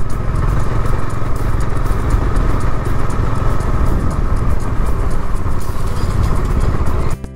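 Loud, steady engine drone of a motorcycle being ridden, with rushing wind buffeting throughout and a sudden drop-off at the very end.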